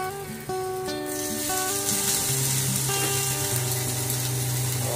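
Masala frying in a pan as boiled potatoes and carrots go in for a Kolkata-style vegetable chop, a steady close sizzle with tonal kitchen whine over it and no talk.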